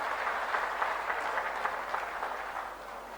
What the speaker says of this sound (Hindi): जोरदार तालियां बजा करके इनका स्वागत करें।